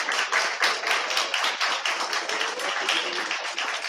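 A round of applause at a World Food Safety Day celebration, brisk, rhythmic clapping from a group of hands, close and steady for several seconds with no voices.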